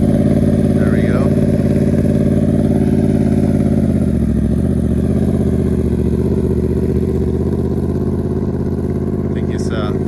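A Yamaha R1 motorcycle rolls along under clutch control as a learner practises leans and turns, its engine a steady, close rumble that dips slightly midway, with short bits of speech over it.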